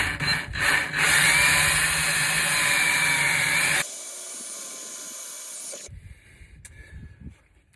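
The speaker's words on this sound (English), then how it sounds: "I'm going to drill my holes. I happen to drill some pilot holes first." Power drill boring pilot holes while mounting a stabilizing jack on a trailer RV camper, a loud steady grinding whir that cuts off abruptly, followed by quieter scraping and a few faint knocks.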